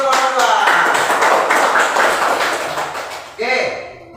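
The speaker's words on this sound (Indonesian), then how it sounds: "Tepuk tangan dulu kelompok" A classroom group at an Indonesian teacher-training session applauds, with dense, lively clapping from many hands that fades over a few seconds before a brief voice cuts in at the end.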